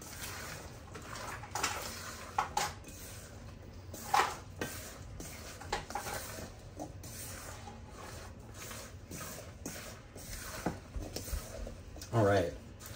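Diced rhubarb is stirred with vanilla in a bowl, giving soft clinks and scraping knocks scattered across the mix, moderately close, with a voice talking over much of it.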